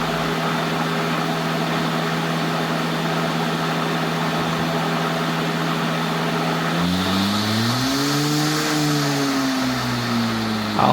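An EGO 56V LM2100 electric lawn mower, retrofitted with a cheap controller, hums steadily at close range, then spins up with a rising and falling whine partway through.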